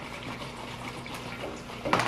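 Liquid being poured while making slime at home, a soft continuous trickle at moderate distance with a brief louder splash near the end.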